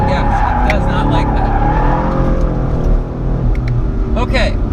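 A 2016 Chevrolet Camaro SS drifts, its engine roaring loud and close with on-off throttle while the tires squeal in a long, wavering screech, and a voice talks over the noise.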